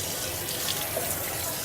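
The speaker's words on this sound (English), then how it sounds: "So I let the water running" Tap water runs steadily in a sink while a yogurt machine is rinsed clean, a continuous close hiss and splash with no clear talk over it.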